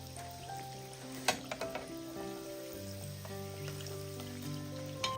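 Evening snacks deep-frying in hot oil over a low flame, a steady soft sizzle with a few sharp clinks and taps of a utensil early on, no voices.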